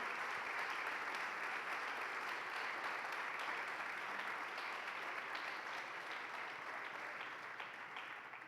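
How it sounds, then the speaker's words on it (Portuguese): A church congregation applauds the name of the Lord: continuous, even clapping from many hands, heard at a moderate distance and fading slightly toward the end. "Oh, aplauda o nome do Senhor."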